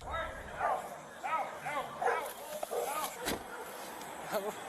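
An unrestrained dog barks and yips in a series of sharp, irregular bursts at close range, with people talking underneath.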